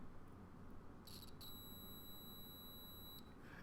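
A continuity tester gives a single steady high-pitched beep of about two seconds through an audio cable under test, faint and close against a low background hiss.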